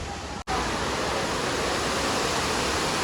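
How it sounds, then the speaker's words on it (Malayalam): A waterfall near Kodaikanal roars as a dense, continuous rush of falling water, loud and close, after a brief cut at the very start. "സൂപ്പർ വെള്ളച്ചാട്ടമാണ് ഈ കാണുന്നത്"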